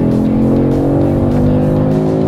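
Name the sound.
Porsche Cayman GT4 RS engine accelerating on Poznań race track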